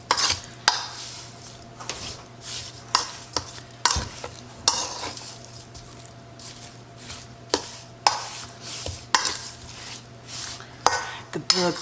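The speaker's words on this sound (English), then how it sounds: "we're going to give this a stir" Beef stew meat stirred in a pot, with a spoon repeatedly scraping and knocking against the metal in irregular strokes and a faint sizzle between them, close and clear over a steady low hum.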